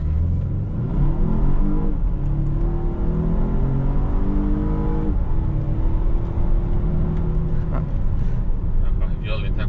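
Volvo XC60 T8 Polestar with Öhlins suspension accelerating hard, its engine note rising steadily across two gear pulls, loud and close from inside the cabin with a brief shift in between.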